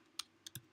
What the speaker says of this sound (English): I'm going to type in my design